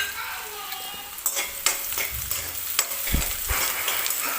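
Curry leaves and garlic sautéing in oil for dal khichdi, a steady close sizzle with stirring scrapes and a few louder pops and clatters from the pan.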